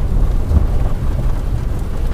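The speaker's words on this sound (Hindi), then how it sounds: "सवेर की बहुत ज़्यादा बारिश हो रही है" Heavy rain pours in a dense, steady roar with a low rumbling undertone, loud and close throughout, with no voices.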